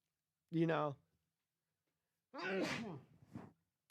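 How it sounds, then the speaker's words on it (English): Two sharp, close sneezes separated by a quiet pause, the second longer and breathier, trailing off with a small exhale. "sneeze."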